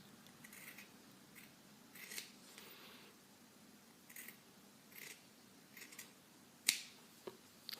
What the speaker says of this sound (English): I've pretty much just cut them into strips